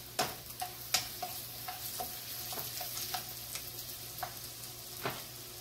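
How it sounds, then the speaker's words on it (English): Vegetables sautéing in olive oil with a pat of butter, a steady close sizzle broken by repeated sharp clicks and scrapes of a utensil stirring the pan, no talking. "I'm sauteing them in olive oil and 1 pat of butter"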